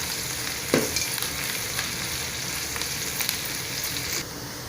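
Sliced large onions and curry leaves sizzle steadily in a hot pan for vegetable noodles, close and continuous, with occasional scraping knocks of a spatula stirring them.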